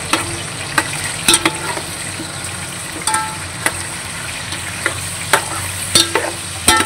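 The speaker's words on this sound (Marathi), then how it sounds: "हे मस्त परतून घ्यायचं आहे आपण आता छान." Chicken biryani ingredients being sautéed in oil, with a steady background sizzle and frying hiss broken by sharp spoon scrapes and taps against the pan at irregular intervals.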